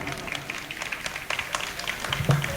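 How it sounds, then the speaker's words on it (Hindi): Audience applause welcoming the poet Akhtar Ilahabadi on stage at a mushaira, a steady wash of clapping with sharper individual claps rising toward the end. "पुरजोर तालियों से इस्तकबाल कीजिए अख्तर इलाहाबादी साहब"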